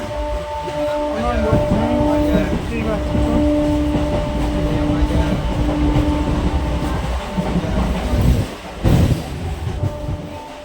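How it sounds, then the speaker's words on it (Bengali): A Katwa–Rampurhat MEMU passenger train stands at platform 3 of Khagraghat Road station, its low mechanical rumble and hum running steadily throughout, with faint voices and a brief clatter near the end. "আর এই প্ল্যাটফর্মে এসে দাঁড়িয়েছে কাটোয়া রামপুরহাট মেমু প্যাসেঞ্জার"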